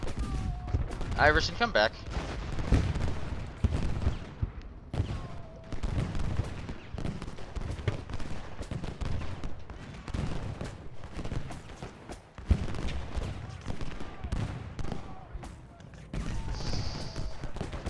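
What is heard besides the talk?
canister shot artillery fire in Ultimate General: Gettysburg video game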